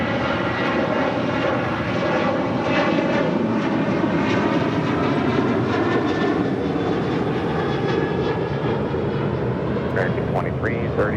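A JetBlue airliner taking off from runway 25 right at LAX, a loud, steady engine roar with a droning whine that holds throughout. Radio voices talk underneath.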